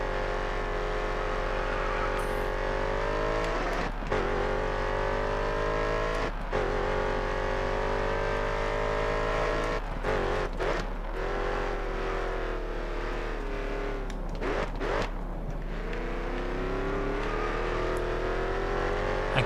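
Chevrolet Camaro V8 race car in GRID Autosport, its engine droning loud and steady for the whole run, with several sharp gear-shift dips and revs rising back up as it drives on a racing circuit.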